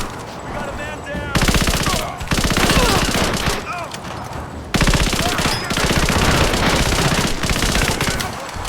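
Sustained automatic gunfire rattles in a firefight from the game Rise of the Tomb Raider, loud dense bursts of machine-gun fire with shouting voices mixed into the chaos.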